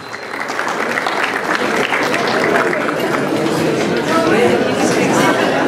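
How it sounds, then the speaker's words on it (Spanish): Steady, dense applause from a crowd at a school awards ceremony honouring the San Vicente de Paúl regional basketball champions, with faint chatter underneath. "Fuerte el aplauso para la institución educativa San Vicente de Paúl"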